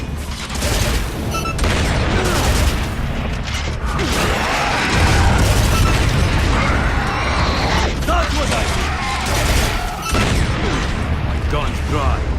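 Gunfire and explosions from the Gears of War: Judgment game during a fight against a berserker, with dense rapid mechanical weapon fire, booms and crashes, loud and continuous, with a voice talking over the combat.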